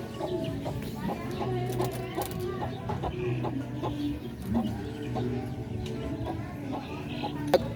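Chickens and young chicks cluck and peep in steady, overlapping calls, close and moderately loud, amid a busy background of other small noises.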